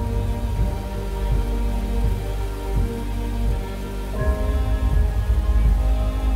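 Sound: rain falling

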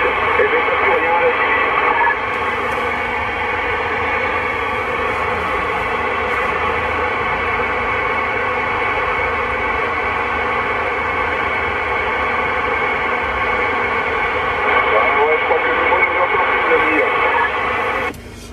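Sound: CB radio static and interference (QRM) in town

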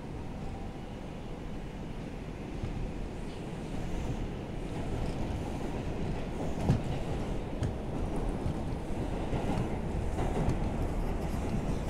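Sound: R142 subway train running, 2 Express

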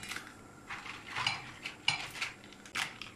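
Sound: dropping peppers into boiling water in a pot

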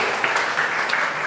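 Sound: audience applause

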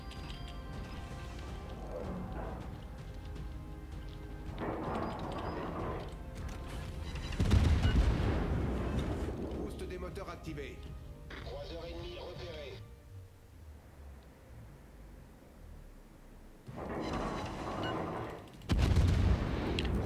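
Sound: naval gunfire in World of Warships video game

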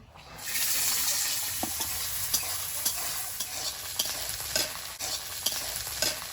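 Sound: green peas frying and being stirred in a wok

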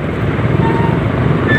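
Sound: two-stroke motorcycle in traffic

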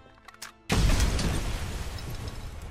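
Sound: grenade explosion in the video game RoboCop Rogue City

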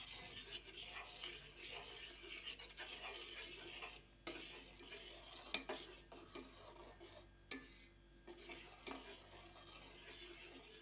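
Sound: stirring aam ras (mango pulp) in a pot on the gas

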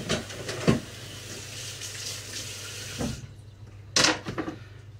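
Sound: rinsing chopped herbs under running tap water

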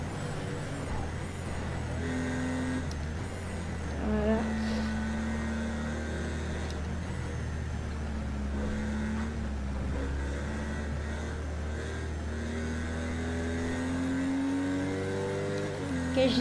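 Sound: race car engine in video game Project Cars 2 at Nürburgring

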